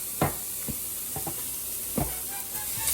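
Italian sausage and meat cooking in a pan with onions and bell pepper: a steady sizzling hiss broken by several sharp spoon scrapes and clacks as the meat is stirred, close and loud.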